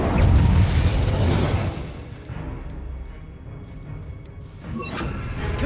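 Hogwarts Legacy's Incendium fire spell erupts in a loud, booming whoosh of flame during video game combat. The roar fades after a couple of seconds, and a second swell of magical effects rises near the end.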